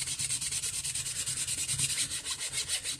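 Steady back-and-forth rubbing of a cereal box surface to roughen it for glue, a close, even scratchy scraping repeated in quick regular strokes throughout with no talk.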